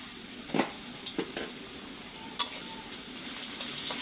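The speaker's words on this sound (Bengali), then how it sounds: "হলুদের গুঁড়া দেওয়ার পর সুন্দর করে ভেজে নিতে হবে" Turmeric powder fries in a pan with already fried onions and green chillies for a potato bhaji, a quiet, steady sizzle broken by a few sharp stirring scrapes and clicks.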